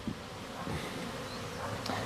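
Honeybees buzz steadily at a small Slovenian-frame hive, a dense continuous drone with close individual bees flitting past, no voices present.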